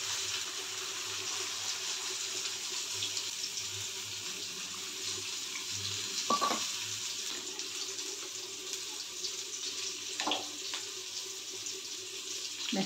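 Water pours into a curry pan in a soft, steady flow close by in a home kitchen, with a couple of brief splashes and clinks.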